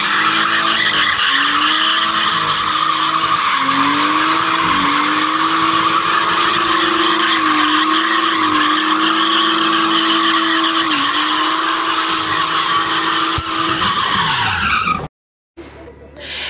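BMW E36 drift car, originally a stock two-litre, skidding with long sustained tire squeal and a loud engine wail rising and falling through gear changes, continuous and close for about fifteen seconds before cutting off abruptly.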